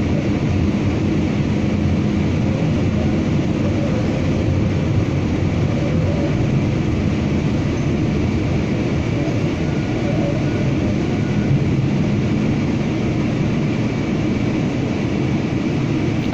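Ride aboard an Edmonton ETS Metro Line LRT train, a Siemens SD160 light-rail car: a steady, loud interior rumble and rolling hum with faint squeals and rattles, continuous and without talk.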